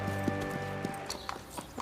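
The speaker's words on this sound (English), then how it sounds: "Few can perform this exacting dance with the power and precision of the Spanish horse." Hooves of a Spanish horse performing dressage, giving a steady clip-clop of repeated strikes over a sustained musical backdrop, moderately loud and close.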